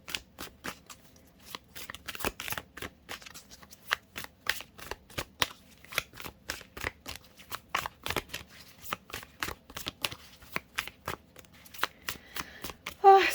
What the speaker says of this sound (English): sometimes the shuffle process can take a while